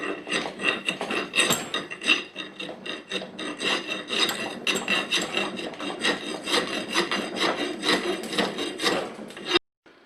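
Copper vise jaws for a Wilton Bullet vise being deburred by hand with a file, a close, steady series of rasping strokes in an even rhythm for about ten seconds, ending abruptly.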